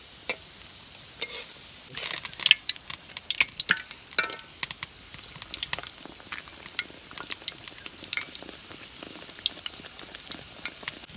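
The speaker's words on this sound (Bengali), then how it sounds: "এই মোগলাইটা আমি তেলের ভিতরে দিয়ে দিলাম" A mughlai paratha frying in hot oil, a low sizzling bed broken by frequent sharp crackles and spitting pops, close and irregular throughout.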